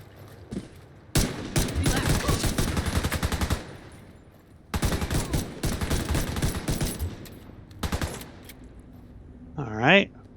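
Bursts of rapid automatic gunfire in The Division 2 come in two long sustained volleys and a shorter one, with someone speaking briefly at the end.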